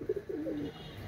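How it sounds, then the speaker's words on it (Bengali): A Pakistani chuha pigeon gives one short, low coo at close range, quiet and alone. "এটা হচ্ছে পাকিস্তানি চুহা কবুতর"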